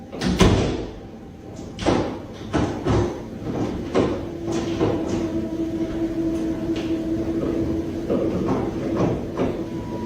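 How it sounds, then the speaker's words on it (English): A door down a hallway swings open and shut by itself, giving a few sharp knocks and thuds spaced over several seconds against a steady low hum and faint background noise. "A door down the hallway started moving, opening and closing on its own."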